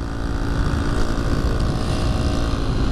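A scooter engine runs steadily at close range with a cracked exhaust patched by a pushed-in pipe, giving a continuous droning hum with no break across the stretch.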